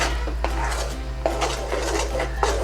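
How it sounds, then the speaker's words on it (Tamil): Beetroot laddoo mixture is stirred continuously in a pan, producing rhythmic scraping and rubbing strokes over a low constant hum. "அடி பிடிக்காமல் கிளறிட்டே இருங்க"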